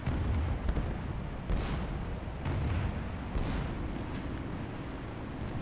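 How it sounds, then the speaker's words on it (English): Bombs from an He-111 bomber in War Thunder simulator battles land as a series of muffled, rumbling explosions, several distinct thumps over a steady engine drone, with a brief spoken word. "I see your bombs going."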